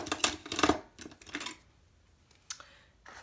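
Scissors snip through planner paper in a quick burst of crisp cuts, followed by a pause and two more isolated snips, close and moderately quiet.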